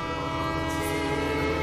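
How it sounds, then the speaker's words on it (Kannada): A passing train, a loud continuous rumble with droning horn-like tones and steady track noise. "ನನಗೆ ಬರೀ ಟ್ರೈನ್ ಸದ್ದು ಮಾತ್ರ ಅಲ್ಲ"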